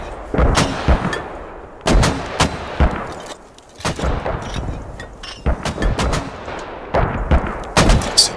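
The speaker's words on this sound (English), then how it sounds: "They place these many like mortars at the same time." Many mortars firing at once in the video game Squad make a steady string of loud, deep booms and cracks, clustered in uneven volleys, each with a rumbling tail.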